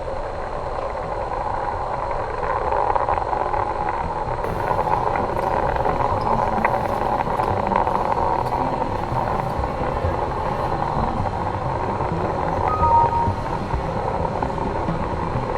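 A sustained, heavy roar of Space Shuttle Atlantis engines during launch, steady and distant-sounding, with a constant rumbling hiss that holds evenly throughout.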